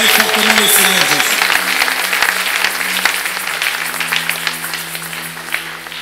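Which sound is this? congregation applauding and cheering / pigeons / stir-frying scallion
congregation applauding and cheering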